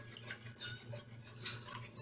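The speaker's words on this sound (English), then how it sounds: "And just mix it all together." Bread dough ingredients being slowly mixed together in a bowl, giving soft, low scraping and stirring sounds with faint utensil clinks, steady and close, with a brighter clink at the end.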